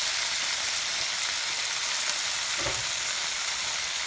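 Fresh spinach fries in a pan with a steady, even hiss like light rain, close by and unbroken, and a brief soft clunk sounds partway through.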